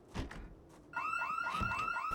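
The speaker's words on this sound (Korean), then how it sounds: "어떻게 침입 경보기가 2번 연속 울릴 수가 있는 겁니까?" A burglar alarm goes off at a gas station in the zombie survival game Project Zomboid, a loud, rapidly repeating rising electronic whoop that starts abruptly after a second, with dull thumps before and under it.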